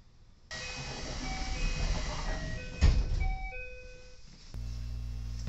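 A JNR 213 series train departs Tenwa station on the Ako Line: door-warning chimes and a closing door give way to a steady, rising electric motor hum as the train pulls away.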